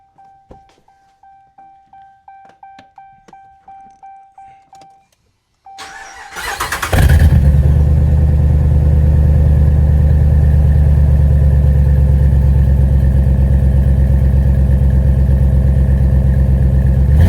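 A 2016 Dodge Ram with its old exhaust: a series of rhythmic chimes, then the engine cranks and fires loudly and settles into a steady, deep, droning idle close by, with no talk.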